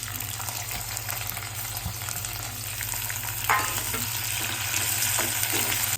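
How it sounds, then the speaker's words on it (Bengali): Bitter gourd and potato frying in an oily pan, a steady broadband sizzle running throughout with occasional stirring scrapes and a brief louder hiss as more pieces go in partway through. "এবার এর মধ্যে দিয়ে দেবো আমি এই যে উচ্ছেগুলি"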